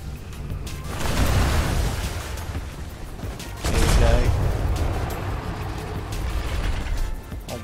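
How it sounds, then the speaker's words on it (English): Enemy ship cannons firing during a sea battle in the Atlas pirate sailing game: two heavy booming volleys with rumbling tails over continuous battle and water noise. "Right, he's shooting at me."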